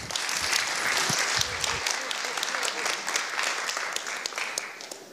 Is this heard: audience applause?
yes